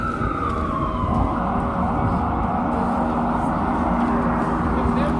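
An ambulance siren wails on a busy New York street near Greenwich Village, a rising, sustained tone over dense traffic rumble and crowd noise, loud and close throughout.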